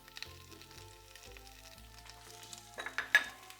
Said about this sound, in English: Now you can hear the oil is really hot, it's really seasoning my asparagus.